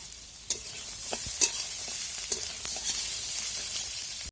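Potato pieces fry in a pan of spiced oil with masala, giving a steady close sizzle marked by a few sharp clicks and scrapes of stirring throughout.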